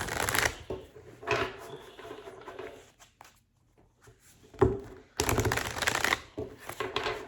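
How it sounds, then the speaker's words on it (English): Tarot cards being shuffled by hand in bursts of crisp riffling and flicking, with quiet pauses between and a brief murmur of speech, close and fairly soft. "As I draw the cards or I shuffle, I'm going to keep a little bit quiet."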